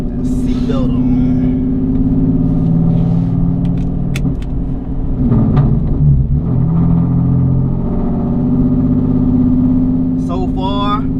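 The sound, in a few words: Genesis car driving with new polyurethane differential bushings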